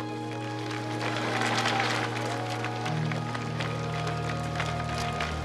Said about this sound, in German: Der Jubel für Gorbatschow ist nicht gestellt.